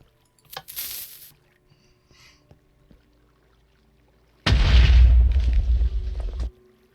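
A blocky TNT blast goes off in the SevTech Ages Minecraft modpack, a faint fizz first, then a single loud, deep, rumbling boom lasting about two seconds before cutting off.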